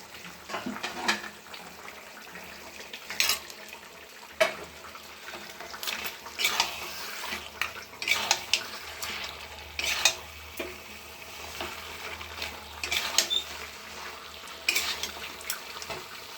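Rohu fish pieces and a fish head frying in a pan, giving a soft steady sizzle broken by scattered clinks and scrapes of stirring, fairly quiet and without talk.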